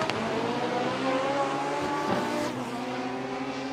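Front-wheel drive import drag cars launch together at a World Cup Finals qualifying session, a steady loud blare of high-revving engines with a brief tire chirp, sustained and close without commentary.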